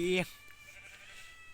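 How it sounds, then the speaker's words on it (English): A sheep in the Minecraft video game gives one short, clear bleat at the very start, then falls quiet under faint background sound. "Oh, the sheep."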